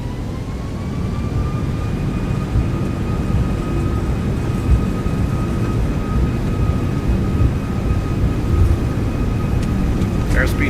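Airbus A340-600 engines spooling at takeoff power in X-Plane 12, a loud sustained jet roar with steady whining tones throughout, with a voice talking over it.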